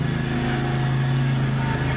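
A neighbor's lawn mower runs steadily in a backyard, a loud, continuous engine drone with a constant hum and no pauses throughout.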